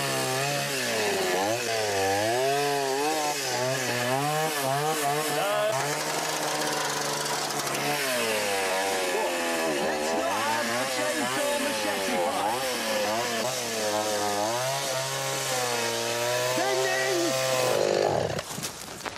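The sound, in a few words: chainsaw running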